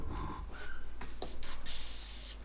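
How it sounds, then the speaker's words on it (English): An airbrush driven by a compressor sprays a grime mix onto a scale model tyre, giving a continuous close hiss with slight pulsing and short bursts as the spray is eased on and off. "And I'm just going to very, very gently spray this muck mix onto my tyre."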